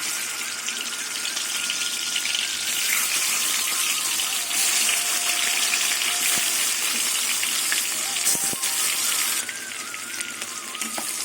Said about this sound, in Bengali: এবার মাছগুলো তেলে দিয়ে ভেজে নেব